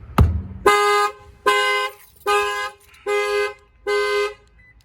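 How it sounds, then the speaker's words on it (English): A sharp thump on a tire, then a Toyota 4Runner's alarm with an upgraded shock sensor blares five evenly spaced horn-like honks, loud and close, with short gaps between them. "I'm gonna go ahead and bang on this tire here. You'll see the alarm will fire off."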